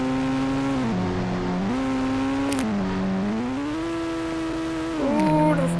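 A Defender drives in an Indian bike 3D video game, a synthetic engine tone rising and falling in pitch as it shifts through gears, steady and moderately loud with a brief surge near the end.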